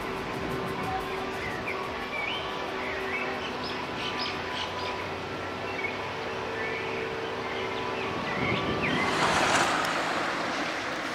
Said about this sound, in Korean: 도시 어디서나 들을 수 있는 새소리도 한결 더위를 식혀준다.